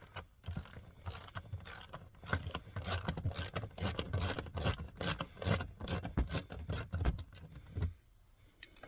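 Bolt on a Lexus GX470 interior panel being loosened with a ratchet, a quick run of close metallic clicks and rasping turns over several seconds, then falling quiet at the end.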